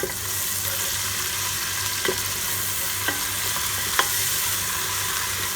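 Steady sizzling of garlic ginger paste frying with onions in a pan, with a few soft scrapes from stirring.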